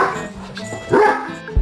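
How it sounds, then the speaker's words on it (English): A pet dog barks in a car on a snowy, white-out drive, a couple of short sharp barks near the middle and at the end, loud and close. "That's my dog."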